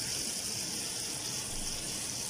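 Water is poured into a pan of hot frying spices while cooking mash dal, giving a steady, even hiss and gush of liquid hitting hot oil that continues for the whole stretch with no talking.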